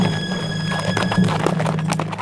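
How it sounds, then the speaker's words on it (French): A group of riders on galloping horses, steady hoofbeats with a neigh, loud and continuous over a constant background hum. "il entendit un bruit de galop"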